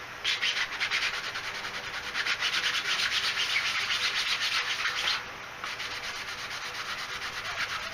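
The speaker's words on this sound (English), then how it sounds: "380 grit sanding sponge. It's not that very hard, but it will take some of it off" A costume elbow piece being sanded by hand with a 380 grit sanding sponge: steady, rhythmic back-and-forth scratchy rubbing, close and fairly quiet, with a short pause before lighter strokes resume.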